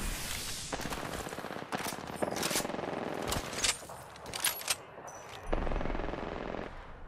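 Video game gunfire: rapid bursts of automatic fire crackle up close, broken by short pauses and a few sharper single shots, with no talking.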